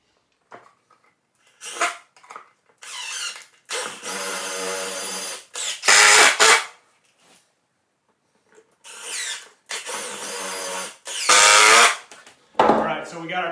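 Power drill driving screws into a wooden bowyer's bench, several bursts of whirring and grinding separated by short pauses, loud and close, alone.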